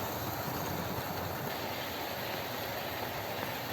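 An OO gauge model train runs on a large automated loft layout, giving a faint, steady rolling rumble and soft track clatter that continues without a break.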